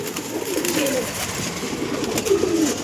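A pair of double-striped pigeons coo softly nearby, two low burbling calls rising and falling over a light ambient background.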